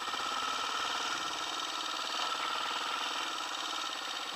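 A motorbike engine idles steadily and close, a continuous even hum with a faint rhythmic pulse, heard alone during cone training for a motorcycle CBT.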